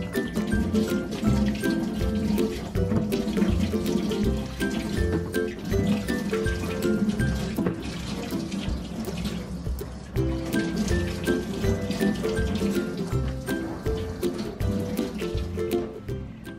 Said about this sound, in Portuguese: Nós vamos levar na pia, lavar ela bem lavadinha e vamos colocar de molho na água.